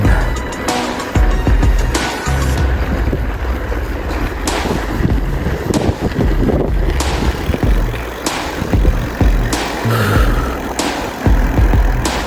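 Cars on a busy highway rush past one after another, loud and close with rumbling engines and wind buffeting the microphone, several distinct swooshes rising and fading.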